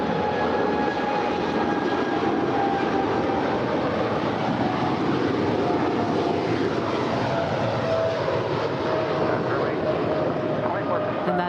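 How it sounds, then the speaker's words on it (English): A Cathay Pacific Cargo heavy jet departs LAX with a loud, continuous roaring engine rumble that holds steady throughout. Speech runs over the roar. "And that is Cathay Pacific Cargo 3785 heading up to Portland, Oregon"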